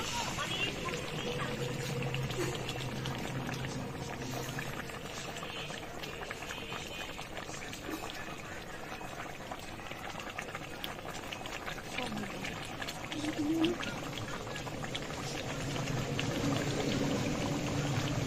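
Rui fish curry bubbles softly in a covered pan, a steady low simmer with faint lid rattle running throughout, fairly quiet and continuous with no voices over it.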